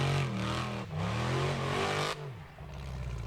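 A formula offroad race car's engine revs hard, its pitch rising and falling in strong surges before cutting back to a lower rumble, loud and close.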